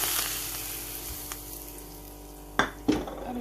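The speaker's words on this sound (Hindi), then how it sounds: "अब इसका मैं लगाऊंगी इसके ऊपर तड़का" Hot oil hisses and sizzles steadily, then two sharp bursts of crackling spatter as cumin seeds are tempered for a samosa filling, quiet and close with no talking.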